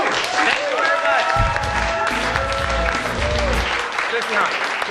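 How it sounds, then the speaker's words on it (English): Applause fills a talk show studio as an audience claps loudly and continuously for a departing guest, with some voices and movement mixed in under the clapping. "A big applause for Violet Blue."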